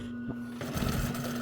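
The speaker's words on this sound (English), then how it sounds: "At which point, I can turn on my sewing machine" A home sewing machine runs a back stitch while sewing up fabric for a handmade pet bed, its steady motor hum building into a busier, louder mechanical chatter partway through.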